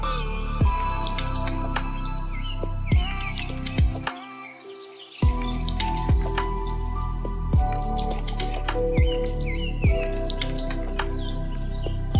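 Birds chirp and call repeatedly around the Ranganathittu bird sanctuary beside the Kaveri river, sharp bright tweets recurring over a steady outdoor background, with a brief quiet gap midway.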